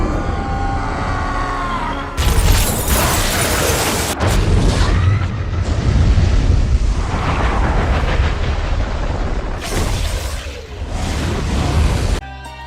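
Rainbow Bridge explosion from a Marvel film, a long run of heavy booming blasts and rumbling with sudden surges and abrupt cuts, loud and dense with no speech.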